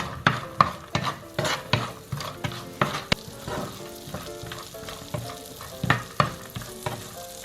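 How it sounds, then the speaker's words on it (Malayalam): Cashews and raisins fry in hot ghee in a pan under a steady sizzle, while a spoon scrapes and stirs in regular close strokes. "അണ്ടിപ്പരിപ്പും കൂടെ ഇതിനകത്തോട്ട് ഇട്ട് കൊടുത്ത് ഒന്ന് വറുത്തെടുക്കാം."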